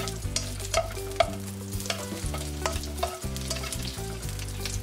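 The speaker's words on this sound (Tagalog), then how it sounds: "Next, i-seared naman natin yung red onion." Red onion sears in a hot pan for a mushroom stir-fry, a loud steady sizzle with frequent stirring clatters over a low cooking hum, no voices.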